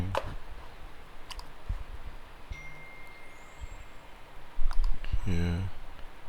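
A computer mouse clicks in short, sharp bursts scattered through the clip, with a brief louder clunk near the end, all over a steady low background hum.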